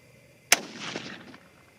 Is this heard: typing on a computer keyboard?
no